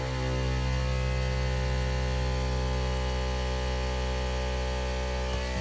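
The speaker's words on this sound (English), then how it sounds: "Switch 4 is the air compressor, so I'll turn it on." A Jeep JKU Rubicon's onboard air compressor runs with a steady, loud electric hum and buzz that holds constant throughout, with no talking.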